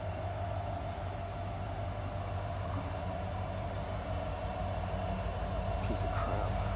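A steady, low rumble of a passing train, constant and fairly loud throughout, with a faint high clink near the end.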